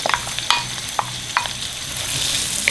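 Onions sizzle in ghee and butter for dal makhani. A bright, constant frying hiss carries sharp spoon taps and stirring clinks against the pan, up close, with no talking.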